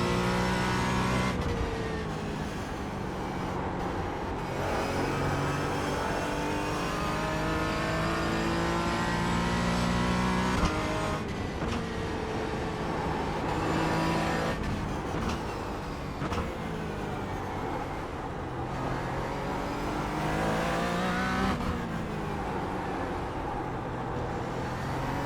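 Racing-game GT4 race car on a lap of Summit Point, its engine droning loud and steady throughout, revving up and down through gear changes with brief dips in pitch.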